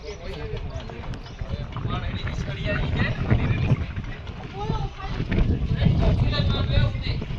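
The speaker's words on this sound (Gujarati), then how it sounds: "પવન બહુ વધારે વાહ" Strong wind buffets the microphone outdoors at a park in a rough, rumbling roar that rises and falls, with people talking under it.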